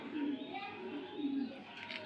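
A racing pigeon gives soft, repeated coos in low rolling phrases, close and fairly quiet.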